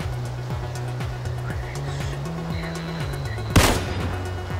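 A sniper rifle shot in an online shooter game fires as a single sharp, loud crack near the end, over a steady bed of engine-like droning and in-game ambience, with no talking.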